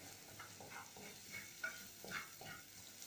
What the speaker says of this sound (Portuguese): E vamos aqui dourar o nosso alho.